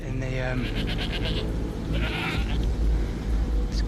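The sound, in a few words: goat bleating with its head stuck in branches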